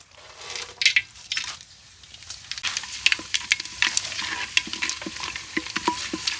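Whole biryani spices crackling and sizzling in hot ghee and a little oil in a clay pot, with scattered pops and stirring scrapes over a steady frying hiss, close and moderately loud.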